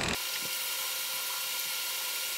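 An electric trimmer shaving a beard gives a constant bright, high buzzing hum that starts abruptly and runs steadily, close and loud, with faint soft scraping bursts underneath.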